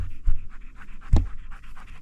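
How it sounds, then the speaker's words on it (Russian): A dog runs up panting in a snowy winter forest camp in extreme cold, its quick, rhythmic breaths close and steady throughout, with a couple of soft thumps of footsteps or movement. "вот кто-то бежит из собак. Слышу. Пыхтит."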